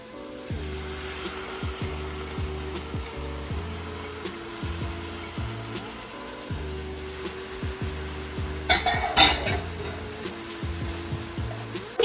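Chopped carrot and capsicum frying in a hot pan for egg fried rice, a continuous sizzle under repeated rhythmic scraping and tapping of a spatula, with a louder clatter near the end.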